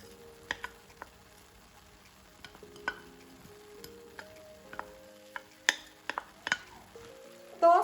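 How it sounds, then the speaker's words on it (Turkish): Liver and onions sauté quietly in a pan with a soft, steady sizzle, punctuated by occasional clicks and taps of a utensil stirring. "Şöyle iyice güzelce suyunu salana kadar kavuracağız."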